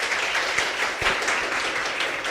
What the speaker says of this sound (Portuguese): Eu vou pedir para a galera aplaudir o professor Everaldo Chaves.